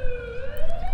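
A wailing ambulance siren in the horror game The Coma: Recut, one continuous rising tone, loud and up close, with a low rumble beneath and no talk.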